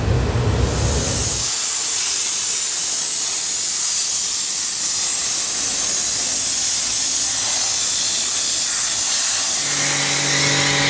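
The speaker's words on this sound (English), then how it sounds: "we're going to dry steam the engine bay, which is the ultimate way to degrease it." A dry steam cleaner blasts a steady, loud hiss of pressurized steam over a 2015 McLaren 650S engine bay, broad and airy, with a faint low hum underneath throughout.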